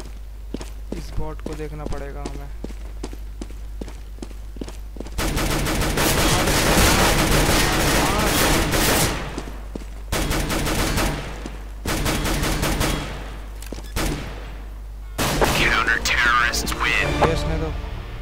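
Shotgun fire in the game CS:GO, dense bursts of loud blasts and footsteps up close, coming in waves with short pauses between them.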